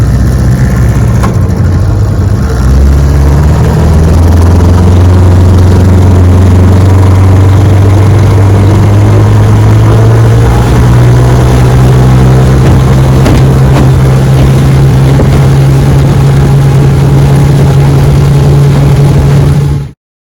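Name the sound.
old Johnson Seahorse outboard motor running on lake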